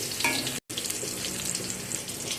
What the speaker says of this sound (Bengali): পটলগুলো এখানে আমি একটু লাল লাল করে ভেজে নেব, ভেজে তুলে নেব।